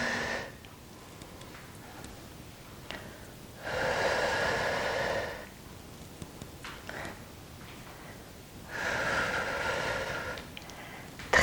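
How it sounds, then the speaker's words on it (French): Steady breaths in and out during a gentle gym class with a stick, two sustained, soft breathy exhalations separated by quieter pauses, heard close with no talk over them. "Inspire et expire."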